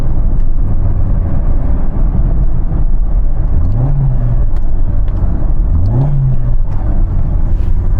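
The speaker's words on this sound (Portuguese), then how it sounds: "fazendo a borboleta abrir e o motor acelerar" A car engine revs in two quick throttle blips during downshifts, each rising and falling over a steady loud engine rumble, close to the microphone with no talking.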